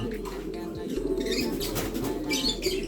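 Red bar racing pigeons in a loft, soft low cooing repeated in murmuring bursts close by, with faint chirps and background rustle.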